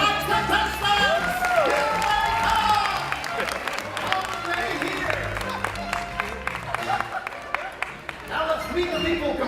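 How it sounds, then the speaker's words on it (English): Studio audience at a comedy game show Christmas special applauds and cheers the contestants, a dense wash of clapping with whoops and shouts, loud and sustained, with voices and music-like tones running underneath. "Let's have a big round of applause for tonight's contestants!"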